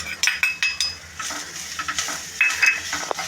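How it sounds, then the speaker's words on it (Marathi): Grated coconut being stirred and roasted in a pan over a low flame while making misal pav, with a series of scraping, clinking strokes of a utensil against the pan over a faint sizzle, close and moderately loud, no talking. "आणि मंद आचेवर ढवळायचं आहे"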